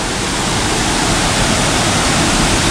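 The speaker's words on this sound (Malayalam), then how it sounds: "ഞാനിപ്പോൾ ഉള്ളത് നമ്മുടെ പത്തനംതിട്ട ജില്ലയിൽ തടിയൂർ എന്ന സ്ഥലത്ത് അരിപ്പുഴി വെള്ളച്ചാട്ടത്തിലാണ്" Arippuzhi waterfall at Thadiyoor in Pathanamthitta, Kerala, a multi-tiered cascade, pours in a loud, steady broadband roar that stays even and close throughout.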